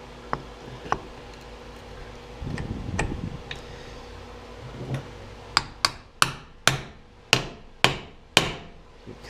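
A hammer taps the flywheel onto a 2004 KTM 125SX motorcycle engine during a bottom end rebuild, with a few scattered knocks and then a steady series of about eight sharp metallic taps, close and clear.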